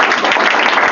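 Dense, continuous hand clapping from a church congregation fills the whole second, steady and loud with no gaps.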